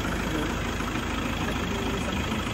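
An old Toyota diesel car engine idles with a steady, dense rumble and an even, continuous drone that holds constant throughout, with no voices present.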